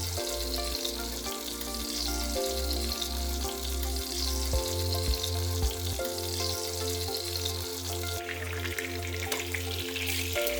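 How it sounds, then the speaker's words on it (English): Zucchini frying in batches in olive oil in a Dutch oven, a steady close sizzle over a low, continuous stovetop hum, with no talking. "Start frying the zucchini in batches. Adjust the heat so you get a good sizzle and nice browning around the edges."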